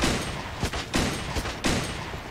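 Loud gunfire from a weapon in a Fortnite-style shooter game, three or four sharp, close shots or short bursts spaced a fraction of a second apart over a dense, noisy game background.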